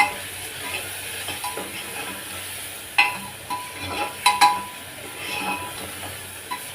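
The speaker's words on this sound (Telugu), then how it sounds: "ఇప్పుడు ఒకసారి కలుపుకుందాం" A spoon stirs gongura mutton curry in a cooking pot, with soft sizzling underneath and several sharp metallic clinks and scrapes against the pot, close and fairly quiet.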